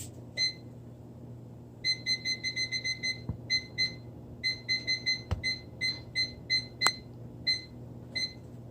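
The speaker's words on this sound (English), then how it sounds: "Oh wait, I gotta set the timer." A fridge timer beeps in a home kitchen while a cake bakes. It sounds in quick bursts of repeated high beeps with short pauses between them, fairly faint over a low steady hum.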